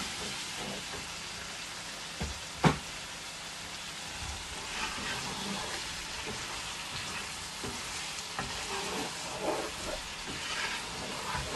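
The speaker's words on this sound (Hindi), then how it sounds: "आलू इसमें डालेंगे, फ्लेम मैंने हाई कर दी है और इनको इकट्ठा जो है ना 5 मिनट के लिए भून लेंगे" Potatoes sizzle and hiss in hot oil over a high flame while aloo gobi cooks. The frying is steady and fairly quiet, with a sharp clink near the start.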